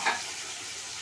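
Broccoli stalk pieces frying in a pan, a steady soft sizzle with a slightly brighter burst at the very start, alone with no voices.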